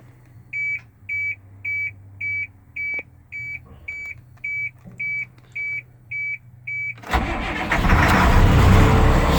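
A box truck's Caterpillar diesel engine with about 188,000 miles starts after a run of steady, evenly spaced beeps, cranking and catching into a loud, rough running roar that continues to the end.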